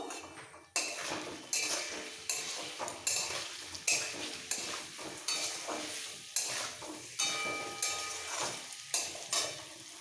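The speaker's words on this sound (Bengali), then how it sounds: "আর একটু সেম চামচের এক চামচ ধনে পাউডার একটু কষিয়ে নেবো" Coriander powder being stirred in a hot pan for peas and potato pulao, with a soft sizzle under regular scraping strokes of a spoon, close and steady, about a dozen strokes with no voices.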